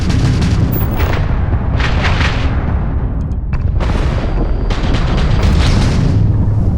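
Hostile ship weapons in the space game Starfield fire on the player's ship, loud booming blasts in bursts that come one after another over a rumbling background.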